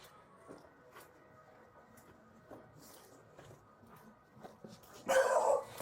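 Faint puppy whimpers and soft yips scattered over quiet background noise, ending in one louder, sharper bark near the end.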